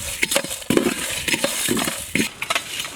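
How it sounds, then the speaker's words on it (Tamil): Whole spices tossed and stirred in a hot dry pan for village-style biryani masala, quick scraping, rattling and light clinks in an irregular rhythm, close and moderately loud, no talking. "பாத்திரம் நல்லா சூடாயிடுச்சு. இப்போ கொட்டிக்கலாம்."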